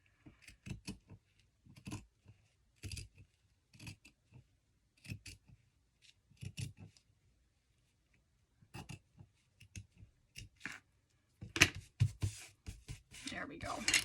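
Scissors snip through fabric along a marked line for a journal cover, giving a series of short, crisp, close cuts in small bursts separated by pauses, with quiet handling noise.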